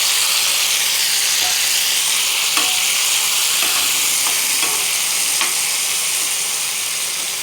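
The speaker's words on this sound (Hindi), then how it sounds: "अब तवे पे ऑयल डालें और इसमें ये टमाटर शामिल करें" Tomatoes sizzling in hot oil on a tawa, a loud, constant bright hiss of frying with a few faint clicks from stirring, easing off slightly toward the end.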